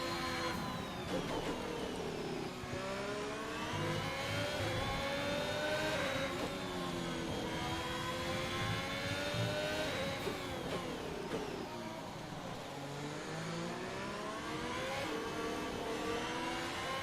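An F1 2021 racing car engine in the video game revs hard and without a break, its pitch climbing and dropping with gear changes through the laps. The engine is loud and close, with no talk over it.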